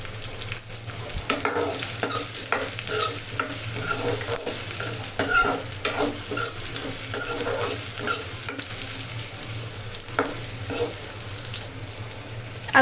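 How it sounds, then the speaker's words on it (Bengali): Boiled potatoes fry in oil for a raw jackfruit curry while being stirred, a continuous sizzle punctuated by repeated scraping and knocking of a utensil in the pan at an irregular pace. "ভালো করে নেড়ে চেড়ে নিব তেলের সঙ্গে আলুটাকে একটু ভাজা ভাজা করে নেবো"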